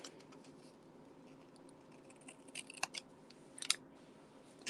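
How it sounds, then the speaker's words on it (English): Scissors snip paper during card making, giving a few faint, quiet cuts in a near-silent room, the sharpest two arriving late. "we're just going to go in and trim this part as well"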